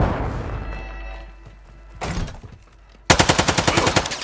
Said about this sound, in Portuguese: Ai, estão atirando em mim!